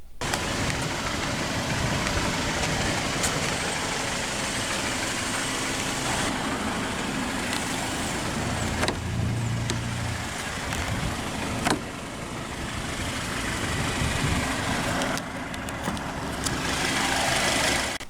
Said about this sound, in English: Powering this Wrangler Sport is the optional GME T4 2-liter turbocharged inline-4 engine